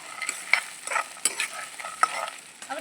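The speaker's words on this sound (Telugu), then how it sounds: "ఇప్పుడు పల్లీలు వేద్దాము పల్లీలు వేస్తున్నాను ఒకసారి తిప్పుకుందాము" Peanuts frying in oil in a pan while being stirred, with soft crackling sizzle and intermittent scraping strokes of a spoon, close and fairly quiet.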